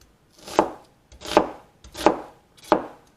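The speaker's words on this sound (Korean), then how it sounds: "양파를 좀 총총 썰어 넣고" Knife chopping onion finely on a board for a spinach side dish, four crisp, evenly spaced thuds close up with no voices.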